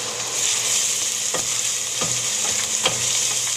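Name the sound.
onions frying in oil in a pan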